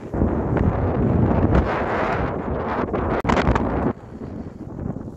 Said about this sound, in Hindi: बहुत तेज हवा है भाई, पता नहीं कैसी आवाज आ रही होगी यहाँ पे।